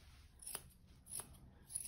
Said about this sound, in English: come in here with these scissors,